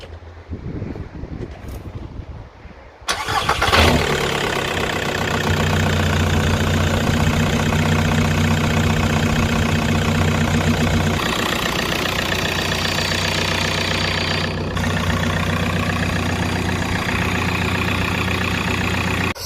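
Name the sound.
Seat Ibiza 1.9 TDI car engine starting and idling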